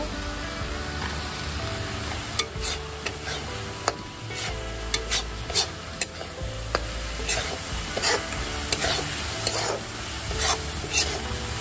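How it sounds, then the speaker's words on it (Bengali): A milk and powdered-milk mixture for malai sandesh is stirred in a pan, with a steady sizzle broken by repeated scraping clicks and taps of the spoon, close and fairly loud. "অল্প অল্প করে দুধ দিয়ে আর নাড়িয়ে নাড়িয়ে নেব"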